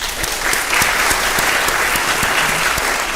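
Literary festival audience clapping, a loud, dense and sustained applause from a large crowd, continuous throughout with occasional sharper individual claps standing out.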